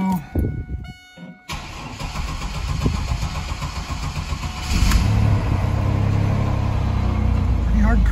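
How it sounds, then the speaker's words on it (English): A 2000 Chevrolet Camaro with high mileage is started cold after a freezing night: a brief starter crank, then the engine catches and settles into a steady rumbling idle that continues to the end. "I'm gonna go ahead and do a cold start on the Camaro, see how it reacts to the cold."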